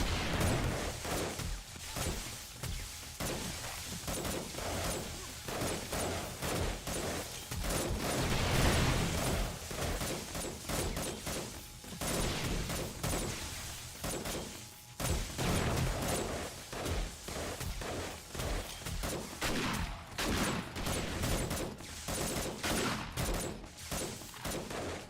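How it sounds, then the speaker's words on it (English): Two turrets in 7 Days to Die firing together at an enemy, a dense continuous stream of rapid overlapping gunshots for about twenty-five seconds, loud and close, with brief dips in intensity and no talk. "See, both of my turrets are working at the same time"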